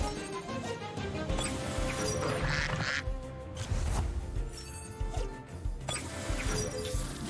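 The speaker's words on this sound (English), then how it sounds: "what is that duck's name? Cypad." Quacking of the duck creature Cypad in the video game Temtem, heard as repeated nasal calls over dense game music and effects, steady and fairly loud with no talking.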